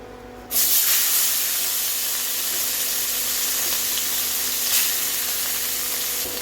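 A second batch of small batasi fish goes into hot oil in a kadai, starting a sudden loud sizzle that settles into a continuous crackling hiss, briefly flaring again partway through, with no voices.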